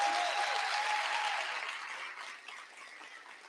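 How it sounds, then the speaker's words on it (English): A room at MEX talks 2023 applauds a 25-year milestone, a thick wash of clapping that starts strong and slowly fades, with no talk over it. "let's give Luis another round of applause for a 25-year milestone"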